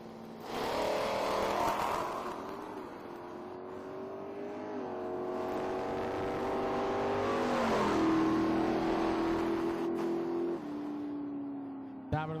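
An 1986 Cutlass drag car launches and accelerates hard down a drag strip at an IHRA Pro Am event, engine pitch climbing through gear changes in a long sustained roar heard at moderate distance.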